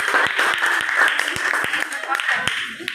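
A classroom of students claps, quick sharp hand claps landing in a steady irregular patter, with voices talking and calling out underneath throughout.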